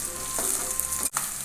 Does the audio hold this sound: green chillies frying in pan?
yes